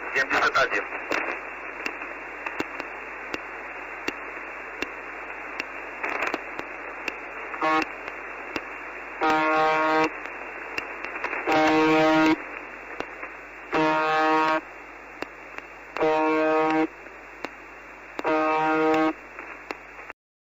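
A harsh, droning Russian shortwave buzzer tone sounds in repeated short bursts every couple of seconds over steady shortwave radio static and crackle.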